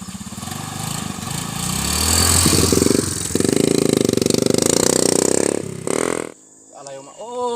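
A motorcycle engine revving up hard and holding a loud buzzing roar before cutting off abruptly, with a voice speaking briefly afterward.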